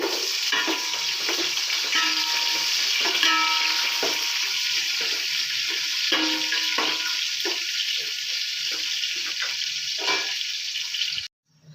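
Onions frying in a pan for hotel-style vegetable pulao, a steady broadband sizzle with scattered crackles and light utensil taps, close and continuous until it cuts off near the end.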